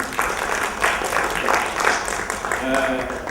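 An audience at an opening speech for a U.S.–Indonesia investment event applauds in a steady, dense patter of clapping that lasts throughout, with a speaker's voice audible over it.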